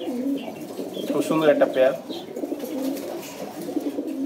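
Pairs of pigeons, grey Lahore birds offered for sale, coo in soft low repeated calls close at hand while someone talks over them.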